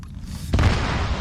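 A single distant boom of an explosion in a military video game, a sudden low burst that rolls on and fades over a second after a quiet moment.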